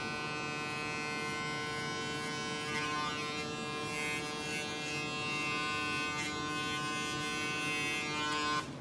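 Electric hair clippers buzz continuously and close up while outlining behind the ears during a layered haircut, a steady whine with slight shifts in pitch as the blade moves.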